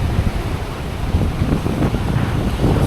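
Strong wind at a beach in Maui roars steadily and loudly across the microphone, with surf faintly blended into the rush.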